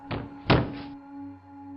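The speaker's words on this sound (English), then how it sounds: "I heard a thud and a bump come from downstairs near the back door" A thud and a bump from downstairs near the back door: two dull impacts in quick succession, the second heavier, fairly close, over a faint steady hum.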